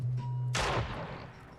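A single sharp burst of video game gunfire cuts in partway through, loud and close, then decays into a short ringing tail over a faint background hum.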